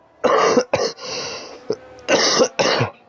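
Several loud, close coughs in bursts, a pair, then a short one, then two more, with brief pauses between.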